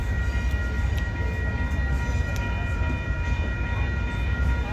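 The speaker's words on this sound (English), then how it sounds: "that is a pretty train." An Amtrak passenger train passes close by during an outdoor lunch stop at Cornucopia, a loud steady rumble of rolling cars with a faint horn tone running throughout.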